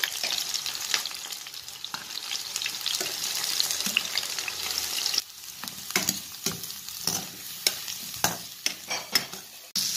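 Fried eggplant sizzles steadily in a hot pan, with close, irregular scraping and stirring clatters breaking through the hiss, growing more distinct and rhythmic toward the end.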